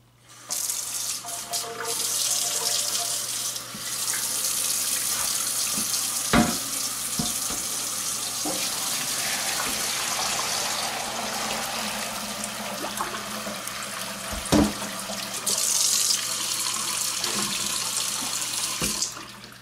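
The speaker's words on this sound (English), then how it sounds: "it's time to pour it through the colander and separate" Homemade cheese mixture poured through a colander, making a steady, loud splashing stream of liquid that runs almost without a break, with a couple of brief clunks along the way.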